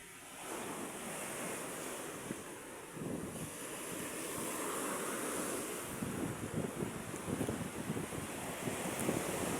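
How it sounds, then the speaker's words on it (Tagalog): Wind gusts blow steadily at the seaside beside a small nipa-roofed wooden shelter, with the rush of surf mixed in; a continuous broad roar with low buffeting rumbles, strongest toward the end. "Sarap dito mga Q. Mahangin."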